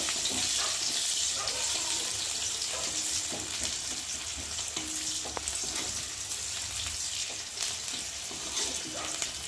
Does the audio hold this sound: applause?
no